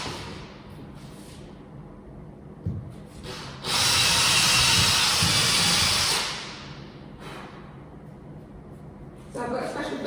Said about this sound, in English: Anyway, so get out the drill.